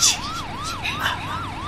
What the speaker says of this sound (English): Oh my god, double ambulance.